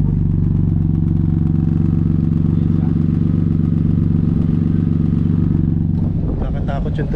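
Toyota Raize with a Fujitsubo dual-tip exhaust idling, a steady low engine drone with a brief stir of clatter near the end, close and loud.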